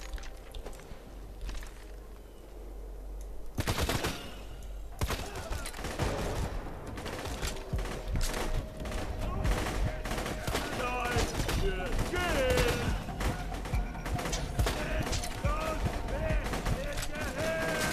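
Gunfire in the video game Borderlands 2 crackles in repeated bursts and volleys through most of the stretch, fairly loud and dense, with someone talking over it at times.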